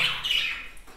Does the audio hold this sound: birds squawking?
yes